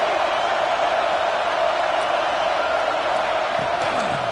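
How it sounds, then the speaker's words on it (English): Stadium crowd in a college football video game, a dense, sustained roar that stays loud and even throughout with no break or lull. "Listen to this crowd just shaking the girders of this place, trying to help their defense."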